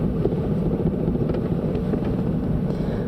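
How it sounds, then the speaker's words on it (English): A Toyota Matrix XRS engine idles roughly with a fault, giving a low, uneven, continuous rumble close to the microphone, with no talking. "Now it's really idling terribly."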